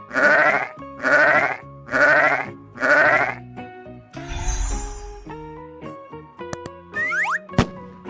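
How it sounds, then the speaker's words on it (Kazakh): A sheep bleats four times in a steady rhythm, each wavering call loud and close, followed by a burst of rustling and a few faint boings. "Қой."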